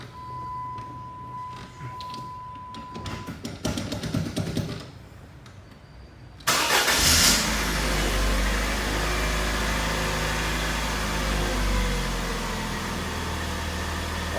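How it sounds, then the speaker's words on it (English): 2001 Saturn SC2 car engine, after a tune-up with a new belt and spark plugs, starting cold: a quiet stretch of clicks and cranking, then a sudden loud catch into a steady, even idle that carries on close up. "So we're gonna get ready and start this up and see how much better it starts up and runs."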